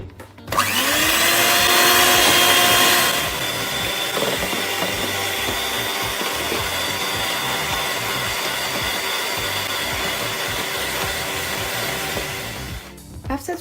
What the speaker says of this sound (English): we have to beat the sugar together with the eggs using the mixer